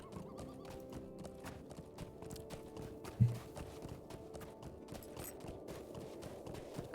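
A horse's hooves clip-clop at a steady, rapid gait in Lord of the Rings Online, with a whinny rising around the middle and game music running underneath.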